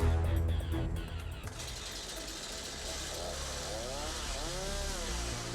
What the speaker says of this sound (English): At this test station, the saw is mounted on a sawing robot.